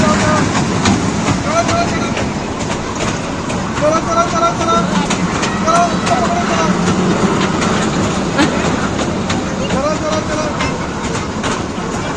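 A small toy train ride runs at the Vaisakhi fair in Janauri, Hoshiarpur district, with a steady, loud rumble and clatter blending into a dense fairground crowd, with voices chattering throughout.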